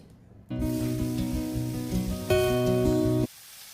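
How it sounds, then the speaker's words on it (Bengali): Koi fish, climbing perch, dropped into hot oil with whole cumin seeds, starting a loud, steady sizzling hiss with a low hum beneath that swells midway and then cuts off abruptly. "এবার তেলটা গরম হয়ে গেছে, এবার আমি মাছগুলো ছেড়ে দিচ্ছি"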